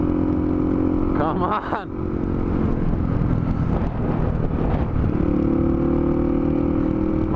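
Dirt bike engine revving and pulling as it climbs a hill after a downshift, a loud rough drone that dips and surges, with wind buffeting and someone speaking briefly over it.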